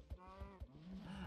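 A cow in the video game Far Cry 5 moos in a drawn-out, tonal low call lasting about a second, heard alone and fairly close with a few soft thumps in the background.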